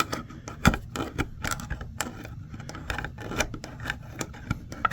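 An old camping tool snips through tin with a run of rapid, irregular crisp cuts and metallic clicks, close up and steady throughout, with no voices.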